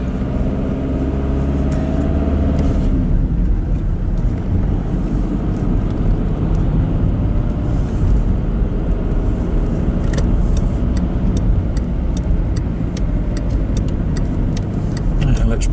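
Road traffic passing through a roundabout on a windy 10-degree day, a steady loud wash of car engines and tyre noise with wind buffeting the microphone throughout.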